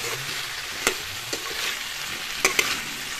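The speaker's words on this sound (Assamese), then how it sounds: "কবিখিনি প্ৰথমতে প্ৰায় 1-2 মিনিট সময় মই এনেদৰে ভাজি থাকিম।" Cauliflower and potato fry in a pan with a steady, close sizzle, broken by a few sharp pops and scrapes of a stirring spoon.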